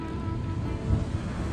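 Ocean waves roll onto a Chilean beach near la Mano del Desierto, a steady low roar of surf mixed with wind rumble, continuous and fairly loud with no talking.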